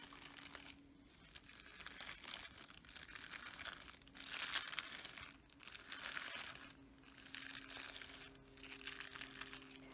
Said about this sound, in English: Anything that was crinkly, like these gloves here.